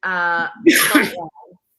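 One sharp human sneeze bursts out close by, set after a short moan-like breath and trailing into a faint murmur.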